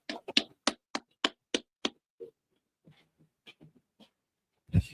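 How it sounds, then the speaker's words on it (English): A group claps hands in unison at a military-style class gathering. About eight sharp, evenly spaced claps come in quick succession, followed by a few faint scattered sounds and one louder thump at the end. "Clap it up."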